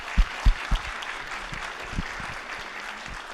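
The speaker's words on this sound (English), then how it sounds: "let's give them a round of applause." A lecture audience at a museum evening event applauds steadily, a dense wash of clapping from a seated crowd with a few sharper low thumps near the start.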